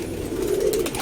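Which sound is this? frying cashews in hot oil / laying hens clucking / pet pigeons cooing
pet pigeons cooing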